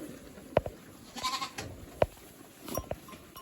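Young lambs bleat on a farm in three short, clear calls spaced about a second apart, close by, over soft rustling and low background noise.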